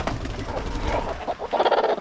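A backyard flock of chickens clucks softly in a garden, a cluster of close, murmuring clucks and short calls over low background noise, with no talking.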